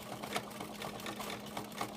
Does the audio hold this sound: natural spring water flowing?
no